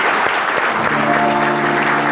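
Applause from the audience at a dinner show in a Beijing international hotel, a steady dense wash of clapping throughout, with a sustained musical tone rising in beneath it partway through.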